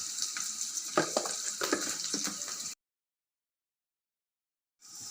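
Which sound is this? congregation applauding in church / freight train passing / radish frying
radish frying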